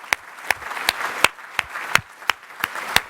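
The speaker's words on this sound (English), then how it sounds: "Let's give him a round of applause." Scattered clapping greets a keynote speaker at a Los Angeles housing event, a handful of sharp, distinct claps spaced at a steady rhythm over a quiet room rather than a full roaring ovation.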